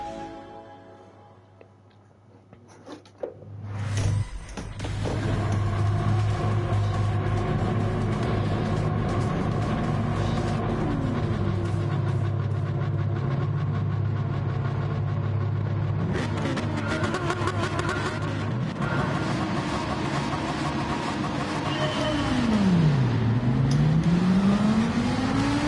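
Ferrari GT3 race cars in Gran Turismo 7 roar off the start line together, engines droning loudly and steadily after a sudden launch, with rising and falling gear-change sweeps as the pack accelerates away.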